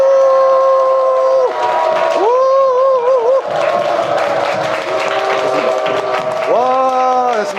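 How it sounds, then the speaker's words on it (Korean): A lecture audience claps and shouts as hard as they can for a few seconds on cue, a dense crowd roar and clapping mixed with loud whoops and sustained vocal cries close to the microphone. "3초간 박수 함성을 있는 힘껏 치는 겁니다"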